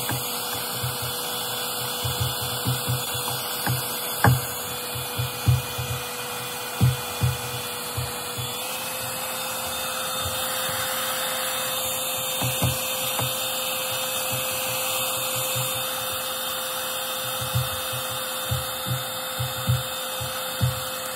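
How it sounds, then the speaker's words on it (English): A hair dryer blows a steady, loud whirring hum over the coat of a Black Russian Terrier during grooming, with soft brushing and handling knocks under the drone. "This is what we're gonna work right now with the hair dryer."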